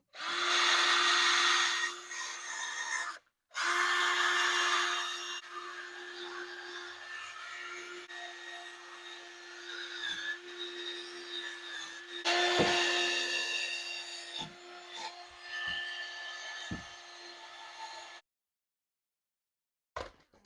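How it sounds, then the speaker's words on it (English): A power drill with a brass wire brush whirs steadily, scrubbing RTV sealant off a Jeep Dana 35 axle's metal, with brief pauses and a few knocks, close and continuous for most of the stretch. "I've got my drill with a brass wire brush"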